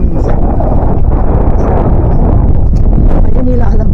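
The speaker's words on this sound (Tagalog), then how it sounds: "Ang lakas ng hangin." A strong outdoor wind roars continuously and loudly into the microphone, a steady rumbling buffet that swamps everything else.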